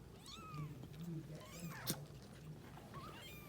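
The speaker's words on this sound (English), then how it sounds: "hungry cats." Several small kittens rescued from a truck meow in thin, high, repeated cries at close range, over a low background rumble with a faint human voice underneath.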